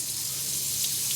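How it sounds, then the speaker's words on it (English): Water runs steadily from an RV sink tap as hot and cold lines are flushed at a campsite, a constant close hiss without talk. "we flushed a little bit of the water through each side, the hot and the cold"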